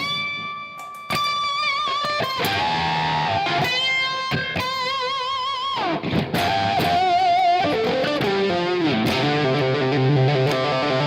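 An electric guitar plays through a buzzy, distorted Octavia octave-fuzz pedal, phrases of bent notes and chords with a harsh, synthetic edge.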